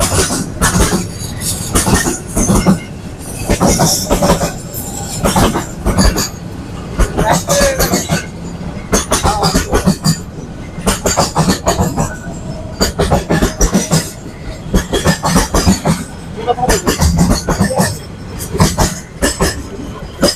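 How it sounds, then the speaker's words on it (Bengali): A train rolls past close by on a rail line, a loud continuous rumble with rhythmic clattering of wheels over track joints and occasional metallic clinks, lasting the whole stretch. "আচ্ছা ট্রেনটা চলে গেল দেখতে পাচ্ছেন"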